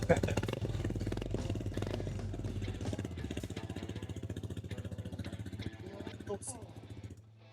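Modified 50cc motorcycle engine, converted toward 250cc, running loud and close with a steady rapid putter and revs, then cutting off near the end.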